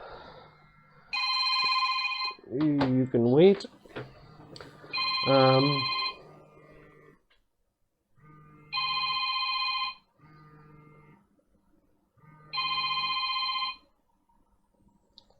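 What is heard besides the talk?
telephone ringing with an incoming call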